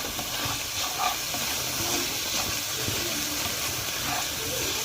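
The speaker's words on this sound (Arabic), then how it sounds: "هننزل بقى بالبصلايه، نص البصلايه، النص التاني احنا مخلينه مش هنحطه دلوقتي. طبعا هنشوح كل الكلام ده" Onion sizzling and hissing steadily in a hot pan, the start of an okra and meat tagine, a constant bright frying hiss with faint clinks and no talk.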